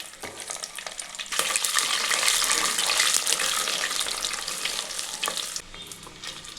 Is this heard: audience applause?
no